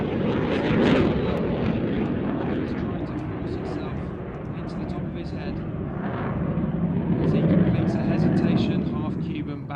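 A Eurofighter jet flies knife-edge manoeuvres in an air display, its engine roar loud and sustained with swelling passes, while a commentator talks over it.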